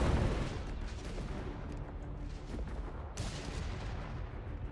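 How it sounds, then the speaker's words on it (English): Gunfire and artillery rumble in the World War II strategy game Company of Heroes 3, a fairly quiet, continuous wash of distant blasts and crackling shots with a sharper burst midway. "Got those guns blasting away."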